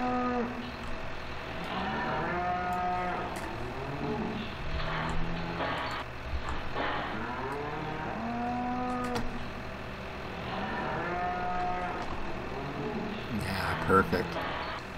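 Several cattle in the Farming Simulator 2015 video game give repeated drawn-out moos, overlapping at a moderate distance over a steady engine hum, with a faint clunk near the end.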